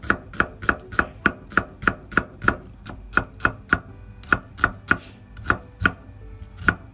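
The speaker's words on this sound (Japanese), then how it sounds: "キャベツをざく切り、そしたら玉ねぎは薄切りね" A knife chops cabbage and thinly slices onion on a cutting board, giving about twenty crisp, evenly spaced close chops in a steady rhythm with no talking.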